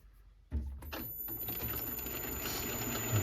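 A metal part turning on a lathe while a boring bar cuts it for an electric power steering conversion on a turbo race car, a steady close mechanical whir and scraping starting abruptly and continuing loud without talk.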